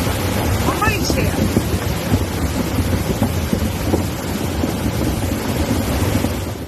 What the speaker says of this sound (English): a sudden and heavy downpour fell between the Cullera and Sueca regions, south of Valencia.